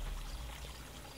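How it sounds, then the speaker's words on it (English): Water pouring onto flowers from a watering can in a Daniel Tiger children's video game, a brief steady splashing pour, loud and alone. "We have to water the flowers."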